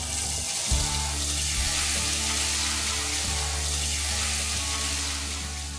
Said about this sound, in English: Allow these tomatoes to cook for a while until the oil starts to separate